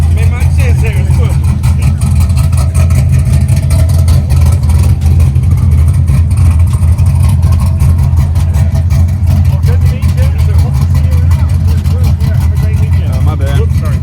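Classic cars leave a car meet with a loud, continuous rumble of engines idling and revving up close, and people talk over the engine noise.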